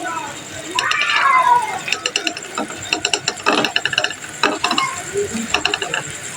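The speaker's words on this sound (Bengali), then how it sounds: "আমি এটাকে এখন নাড়াচাড়া করতে থাকবো ক্যারামেল তৈরি করার জন্য।" A spoon scrapes and stirs melting sugar in a pan over very low heat to make caramel for a malai bread cake. The scrapes come in irregular, close bursts with clicks, over a faint background hiss.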